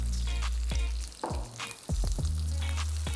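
Potatoes (aloo) hit a hot pan for an aloo cheese toast sandwich and crackle in a steady frying sizzle, with a few sharp spoon-and-pan knocks as they are stirred, close and fairly loud.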